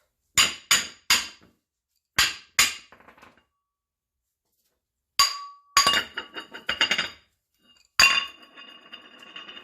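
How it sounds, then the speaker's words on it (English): A hammer taps around the outside edge of a brake rotor from a Nissan/Datsun 280ZX, giving sharp metallic clinks in quick bursts separated by short pauses, with some strikes ringing briefly. "tap around the outside of the rotor"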